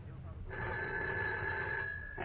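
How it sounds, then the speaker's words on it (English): A telephone bell rings in one sustained, loud trill lasting about two seconds, with a second ring just beginning at the end, as in an old radio drama. "But then my phone rang."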